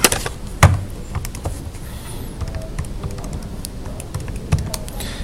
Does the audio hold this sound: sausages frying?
no